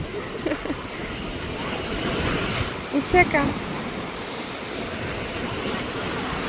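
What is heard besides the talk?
sea waves on the beach at Funtana, Croatia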